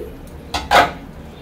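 A metal lid set down over a cooking pot of simmering potato, taro and curry in a home kitchen, giving two quick clinks close by, alone in a quiet room.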